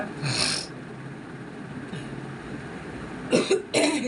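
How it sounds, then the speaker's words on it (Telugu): Background noise runs throughout, with a couple of short, harsh coughs near the start and again toward the end. "దగ్గు వస్తుంది బాగా"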